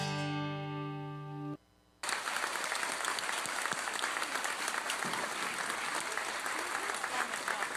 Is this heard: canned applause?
yes